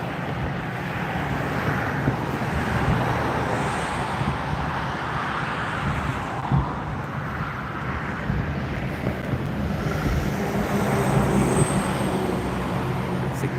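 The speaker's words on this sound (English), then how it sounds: "Traffic's getting loud." Loud road traffic roars steadily and continuously, a dense broadband wash of passing vehicles with wind buffeting the microphone throughout.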